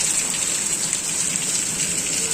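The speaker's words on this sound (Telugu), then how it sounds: "అసలు ఎంత భయంకరంగా ఉందో చూడండి వర్షం" Heavy rain pours down in a storm, a dense, steady hiss of water falling close by without a break, loud and continuous throughout.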